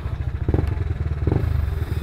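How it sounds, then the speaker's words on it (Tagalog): A rebuilt Yamaha Aerox B2 motor scooter engine idles close by with a rapid, steady putter and light mechanical clatter, giving a couple of brief throttle blips. "So ito na yung super stock na Aerox B2 mga par. So okay na siya. Gumagana na."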